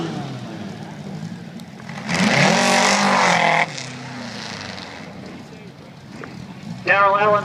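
VW drag racing cars at a Warwick strip give two loud engine bursts, a surging roar of about a second and a half and then a shorter rising blast near the end, with an announcer talking over the quieter stretches.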